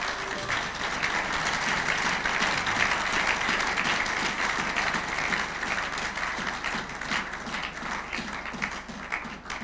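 A church congregation applauds in sustained, dense clapping that fills the room at steady loudness for the whole stretch, with no speech over it.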